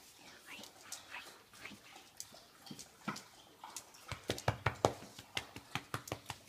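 Two rescue dogs greet their owner at home, with whimpers and excited yips that build into a quick run of sharp, close barks, with light background noise in between.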